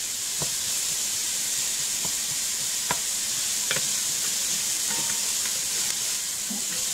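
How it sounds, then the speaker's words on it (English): Onion sautéing in a pan over medium-low heat, a steady soft sizzle with occasional faint stirring clicks, close by. "sauteing in the pan on a medium low."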